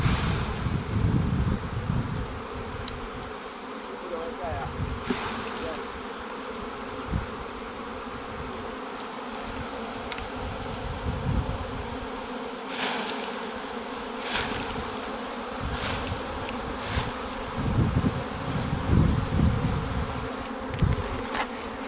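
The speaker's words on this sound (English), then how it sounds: "the queens are fighting right now for the territory. So, that one beehive lost out." Bees swarm in a dense, continuous buzz around a beehive in Jamaica where rival queens are fighting, the humming steady and close with occasional louder passes near the microphone.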